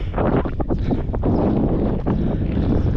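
Strong wind buffets the microphone in continuous loud gusts on a cold Scottish hill path, a rough roaring rush with no voices.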